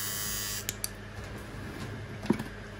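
A Kemei 1971 hair clipper fitted with an Andis T-Outliner blade runs with a steady, close electric buzz, broken by a few faint clicks.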